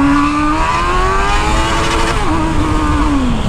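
A Honda Hornet motorcycle engine revs loudly and close by, the pitch climbing and sliding as the throttle is held open, then dropping away.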